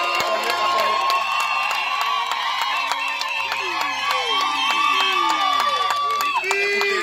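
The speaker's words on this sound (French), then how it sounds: "Acclamez très fort le Seigneur" Wedding guests cheer loudly, a dense crowd of shouts, whoops and high cries with some clapping that holds steady the whole time. It is close and energetic, with voices rising and falling through the noise.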